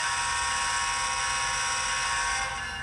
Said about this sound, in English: if you want to blow the horn